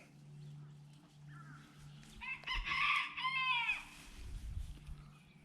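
A rooster crows once, a rising, wavering call at moderate distance, with faint clucking and rustling around it.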